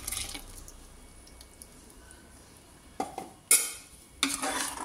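Quiet scraping and stirring of chicken curry with ground coconut in a pan, soft wet squelches, then a few sharper clatters of a spoon near the end.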